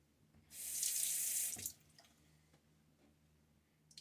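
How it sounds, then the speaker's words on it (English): Tap water gushes and splashes into a bathroom sink for about a second during a wet shave, loud and close, then stops, leaving faint drips and quiet room noise. "And water splash."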